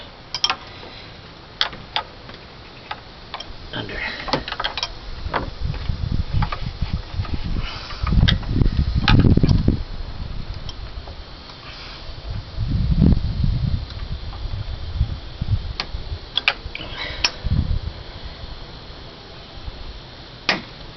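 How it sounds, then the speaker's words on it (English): A wrench works a bolt loose underneath a 2009 Honda Accord 3.5L V6 during a power steering flush, making a close run of quick metallic ticking clicks with a few low thuds mixed in. "I'm going to need a wrench to get under here"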